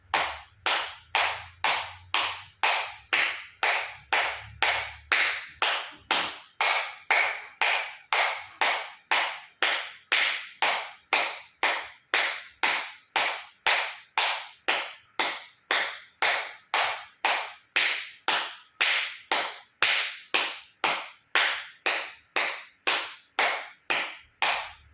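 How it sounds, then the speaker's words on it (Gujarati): Acupressure clapping with full palms meeting, a long run of sharp, evenly spaced loud claps at a brisk steady rhythm, close and alone. "એક્યુપ્રેશર તાળી પૂરેપૂરા પંજા ટચ થાય એ રીતે તાળી આપીશું."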